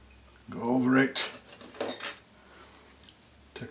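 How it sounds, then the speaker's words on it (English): Metal scissors picked up and handled at a fly-tying bench, a few close clinking taps and a brief scrape, alone in a quiet room. "take our scissors"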